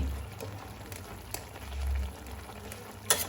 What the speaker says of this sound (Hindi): चावल आटे का पानी देके 2 मिनट उबालूंगी।